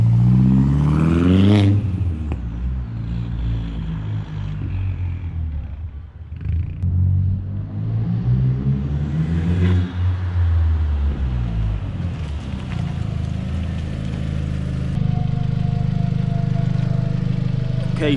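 A VW Golf MK4 GTI with a newly installed front-mount intercooler runs close by, its engine rumbling and rising in revs through a few throttle swells, loud and continuous throughout.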